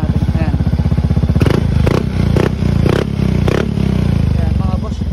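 A Mio i125 scooter fitted with an aftermarket exhaust idles at low RPM in a shop, its loud, steady rumble continuous, punctuated by a few sharp clattering thumps and someone speaking over it.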